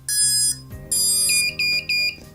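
Vifly Finder 2 drone finder buzzer sounding a loud, shrill electronic alarm in short repeating bursts with brief gaps between them, close up and alone.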